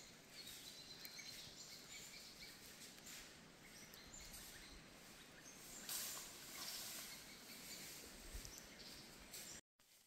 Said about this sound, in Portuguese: Olha essa festa aí desses passarinhos.